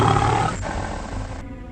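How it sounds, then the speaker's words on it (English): A lion roars once, loud and close, in a Lion King story: a full rumbling roar that fades out over about a second and a half. "Suddenly, Scar heard a great roar."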